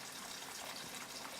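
Hot water pours into a pot for poaching eggs, a steady, even gushing rush that runs without a break.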